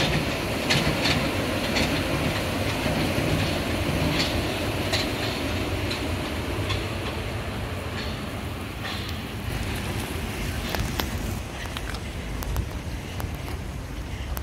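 A Paris metro train rolls past near the Pont de Bercy, a continuous loud rumble with rhythmic wheel clicks and a faint squeal, heard close from a running route.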